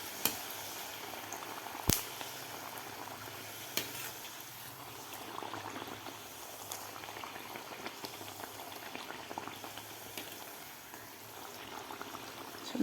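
Masala puris deep-frying in hot oil, a steady soft bubbling and crackle throughout with a couple of sharp clinks, no voices.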